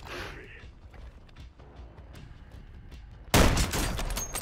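A single loud, sharp sniper rifle shot in a video game cracks out near the end, after a stretch of quieter game ambience with faint creaks and rustles, the boom's tail lingering briefly.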